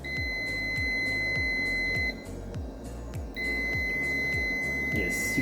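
A UNI-T UT204 clamp meter gives a steady high continuity-test beep that holds for about two seconds, breaks off briefly, then sounds again, over a rhythmic low mechanical pulsing in the background.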